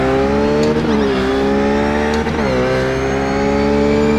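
A RUF race car launches at Lime Rock, its engine roaring loud and close in a sustained, strongly tonal drone, with pitch dips as the revs shift.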